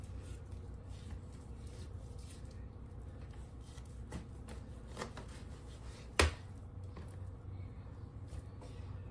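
A kitchen knife slicing through beef chuck roll, soft repeated cutting strokes and faint taps on a board at close range, quiet throughout with one louder knock partway through.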